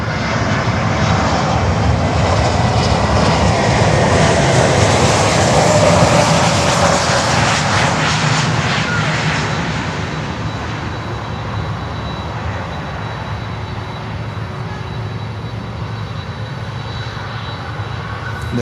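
Delta airliner from Seattle landing at Miami airport, a loud sustained engine roar that swells to a peak and then eases into a steadier, lower rumble as the jet passes close by.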